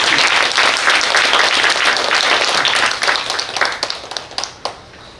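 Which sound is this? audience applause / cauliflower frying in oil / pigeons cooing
audience applause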